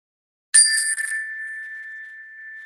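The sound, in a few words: bell ringing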